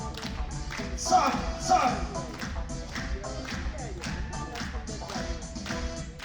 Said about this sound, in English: come on, everybody clap, clap, clap.